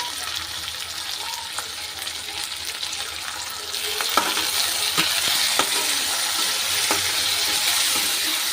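Tomato, curry leaves and salt frying in a pan while cooking egg rice, giving a steady broadband sizzle that grows louder midway, with scattered scraping clicks of a spoon stirring against the pan.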